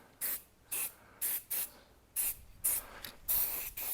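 Rear brake caliper of a Jaguar XKR being spray painted, about eight short aerosol bursts in an even rhythm, each a sharp close hiss with quiet gaps between.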